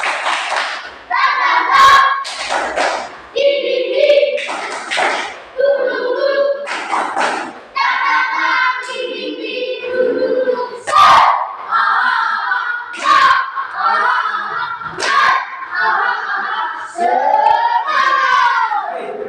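A school class does a rhythmic spirit clap, clapping in a quick pattern with voices shouting along in bursts over the claps.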